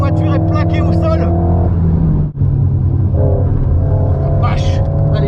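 Alpine A110S with its four-cylinder engine revving hard while driving, a loud steady drone with rising harmonics heard from inside the car, a brief cut near the middle, and someone talking over it.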